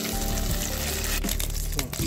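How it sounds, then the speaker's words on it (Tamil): Cubes of tofu fry in hot oil for a spicy tofu sambal, giving a steady close sizzle with a few stirring clatters; no one speaks. "நல்லா பொரிச்சு எடுத்துக்கோங்க இந்த லெவலுக்கு"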